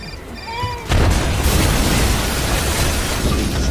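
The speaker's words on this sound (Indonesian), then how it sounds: "dia menekan tombol bom itu dan bom pun meledak" A bomb explodes on a bus in a film scene: a sudden loud boom bursts in about a second in, then a sustained roaring rumble of blast and debris fills the rest.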